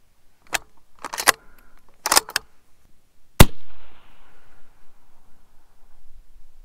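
A 6mm Creedmoor rifle fires at a target 1,600 yards away: a few sharp, loud reports with short gaps between them, the last followed by a brief ringing tail, then quiet background.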